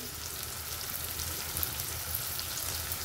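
Softened tomatoes fry in a pan as red chili powder is added, making a steady, close hiss of sizzling with faint crackles and no talking.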